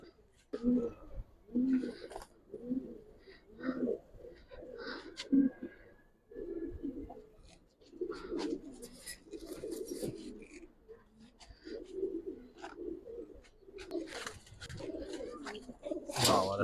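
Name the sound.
silver giribaz pigeons cooing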